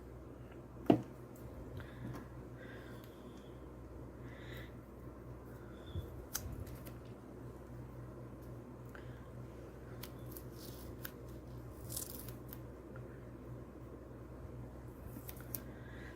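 Scissors trimming masking tape, a few sparse quiet snips and clicks spread apart over faint room hiss, close but soft, no talking.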